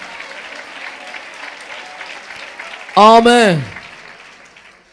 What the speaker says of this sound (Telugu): మీరు నమ్మితే ఒక నిమిషం ఆగకుండా స్తుతిస్తూ చప్పట్లు కొట్టండి.